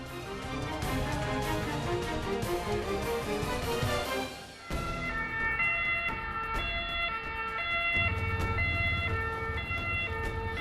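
An ambulance siren on a Delhi street wails with a rising and falling tone and then shifts into a different, faster alternating pattern, steady and fairly loud with no talk.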